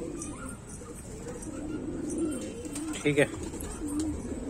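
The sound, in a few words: pigeons cooing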